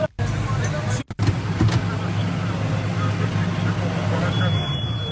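A farm tractor's engine idles with a steady low rumble throughout, with voices talking over it during a tense roadside stop and brief dropouts near the start.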